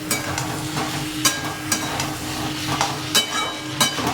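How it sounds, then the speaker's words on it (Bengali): Potato and pointed gourd curry frying in a pan gives a continuous close sizzle, punctuated by several sharp metallic clinks of a spatula or ladle being stirred and tapped against the pan. "আমার তরকারি ভাজা হচ্ছে"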